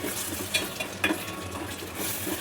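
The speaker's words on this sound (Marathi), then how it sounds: "चला आता याला चांगलं फिरवून घेऊ, म्हणजे सर्व मसाले एकजीव झाले पाहिजे." Green chillies, turmeric and homemade masala are stirred in a pan for matar paneer, giving a soft, steady sizzle broken by a few scraping clinks of the spoon.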